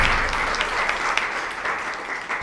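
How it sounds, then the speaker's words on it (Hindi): Audience at a women's day function clapping together, a dense, steady burst of applause that stays loud and even for a couple of seconds without speech over it. "एक बार आप सब ताली तो बजा दीजिए।"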